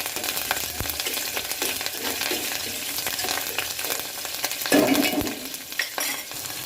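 Steady crackling sizzle of chilies and curry leaves frying in hot oil as a tempering for Gujarati kadhi, with occasional spatters and a brief louder burst near the end.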